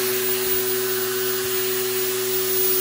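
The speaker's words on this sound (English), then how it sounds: "zip tool with a flexible extension so that I can use that for the cutting purposes" A rotary zip tool fitted with a flexible extension, working like a Dremel, cuts a loading port into an Uberti 1858 New Model Army percussion revolver. It gives off a steady, loud, high motor whine with a constant tone throughout.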